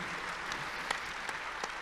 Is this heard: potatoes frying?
no